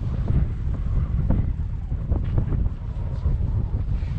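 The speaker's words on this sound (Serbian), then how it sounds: "Vetar strašno duva" Strong wind buffets the microphone in the Atacama Desert during an uphill cycling climb toward 3,430 m, a steady loud roaring rumble with gusty low-frequency surges throughout and no voices.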